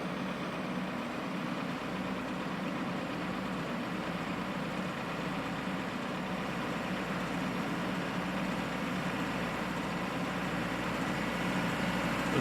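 APU exhaust of a Majestic Bombardier Q400 (DH8D) airliner parked in a flight simulator, heard as a steady, unbroken low mechanical drone with a broad whooshing hiss above it.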